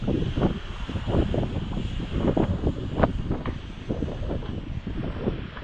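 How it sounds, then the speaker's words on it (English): Strong wind buffeting the microphone outdoors during a Snaptain SP500 drone test flight, with a constant rough rumble and irregular gusty bursts throughout. "it's fighting this darn wind."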